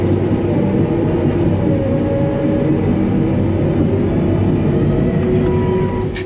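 Case 750M or 850M bulldozer pushing dirt, a steady, loud diesel rumble with grinding track and blade noise that holds constant throughout, with no talking.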